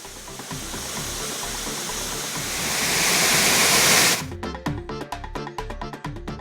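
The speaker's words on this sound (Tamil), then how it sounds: "ஆனைவாரி முற்றல் அருவியில் நீர்வரத்து அதிகரித்துள்ளது" Anaivari Muttal waterfall running high after heavy rain, a steady loud roar of rushing water that swells slightly, then gives way to sharper rhythmic splashing pulses near the end.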